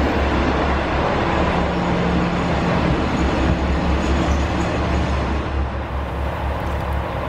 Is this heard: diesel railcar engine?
yes